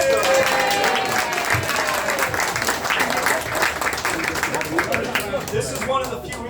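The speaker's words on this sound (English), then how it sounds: "let's give a round of applause for Jessica." An audience at a community discussion gives a steady round of applause, many people clapping together in a thick, even wash with a faint voice briefly heard at the start.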